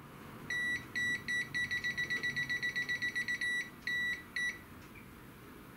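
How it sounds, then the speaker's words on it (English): A clamp meter's live-wire detector beeps near a live wire: a few longer high beeps, then a quick run of about fifteen short pulses, then two more long tones, loud and clean over a quiet background. "It's even got those the beepy things that let you know when you're near a live wire."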